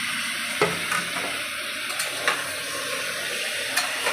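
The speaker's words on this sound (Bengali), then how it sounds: "আলুগুলো দিয়েও আবার একটু খানিকক্ষণ নাড়বো, একটু নেড়ে চেড়ে নেবো" Potatoes frying in a pan and being stirred, with a steady soft sizzle broken by occasional light scraping knocks from the spoon, close and fairly quiet with no talk.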